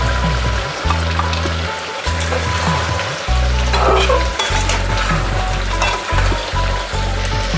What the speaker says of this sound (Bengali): এবার দিয়ে দেব কাজু এবং দইয়ের পেস্টটা